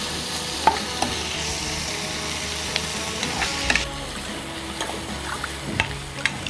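Tomatoes sautéing in a pan for green chilli chicken biryani, a low steady sizzle broken by repeated scraping and clinking of a stirring utensil, close by with no talking.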